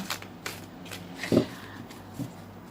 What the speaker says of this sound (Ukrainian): Карти дуже погано тасуються, але дуже гарні.